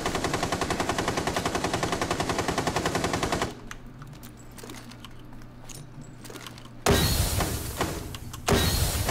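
Rapid automatic gunfire from the video game Rainbow Six Siege rattles in a loud sustained burst, drops to quieter background sounds, then returns in two more bursts near the end.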